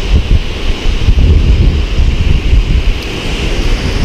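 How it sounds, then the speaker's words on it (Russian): Pacific Ocean surf rolls and washes continuously on the shore, loud and close, mixed with strong wind buffeting the microphone and no voices. "Тихий океан."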